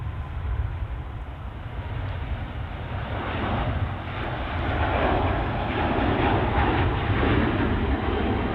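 A Singapore Airlines airliner passes at Manchester Airport, a steady broad jet-engine roar that swells gradually louder, heard from nearby without any talking.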